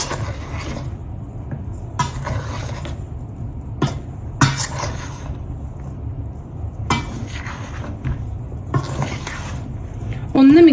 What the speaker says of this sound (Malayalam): ഒരു സ്പാക്ടുലയോ അല്ലെങ്കിൽ ഒരു കയ്യിലോ എടുത്തിട്ട് നല്ലോണം ഒന്ന് മിക്സ് ചെയ്യാം